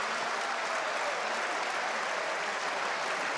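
Steady, dense applause from a padel crowd after a professional match at Rotterdam Premier Padel, a continuous wash of clapping from many hands with no pauses.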